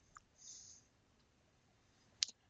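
A single sharp computer mouse click sounds close by, with a faint tick earlier, in an otherwise near-silent room.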